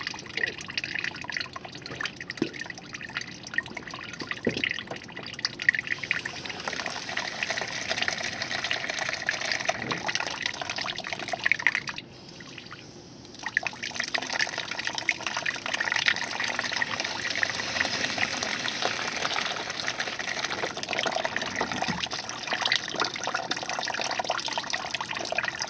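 Liquid coolant pours and drips steadily from a car radiator being flushed on a small-block engine, a continuous close splashing stream with a brief dip midway and no talk over it.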